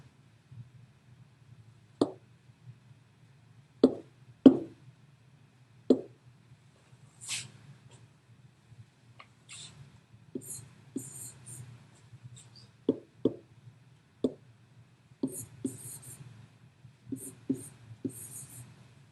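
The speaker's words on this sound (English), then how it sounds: "So let's write those new rules down." Pen or marker writing out math rules, heard as scattered short taps and scratching strokes, close and quiet over a low steady hum, with no talk.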